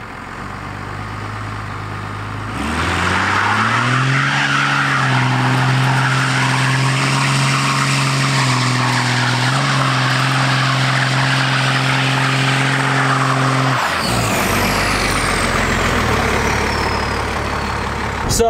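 A beat-up 12-valve Cummins diesel truck roars through a long, loud, sustained burnout with squealing, smoking tires, then drops off abruptly and idles near the end.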